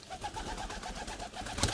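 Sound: pigeons

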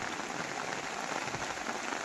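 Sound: heavy rain falling outside

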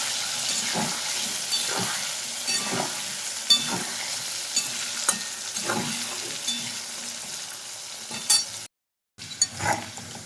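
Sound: potato pieces frying in hot oil with salt and turmeric

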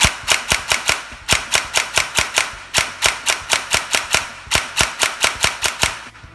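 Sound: 3DG G34 toy blaster firing rapidly

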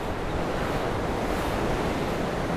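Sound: wind blowing against the microphone while cycling

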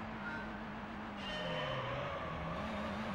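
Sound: car engine in racing video game

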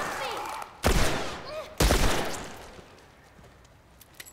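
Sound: gunfire in video game The Last of Us Part

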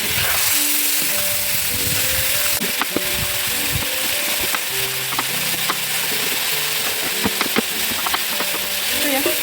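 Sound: stirring carrot pieces frying in a pan for lagman

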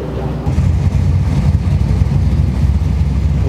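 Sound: Mazda 13B rotary engine running in a race car

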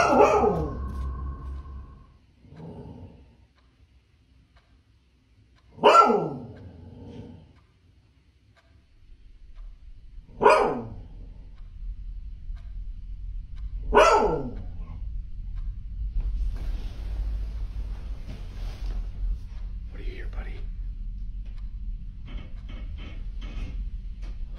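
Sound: dog barking at night

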